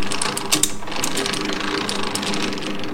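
A lathe chuck's jaws being adjusted to clamp a part give off a rapid, continuous ratcheting, gear-like clicking, close and steady for a few seconds.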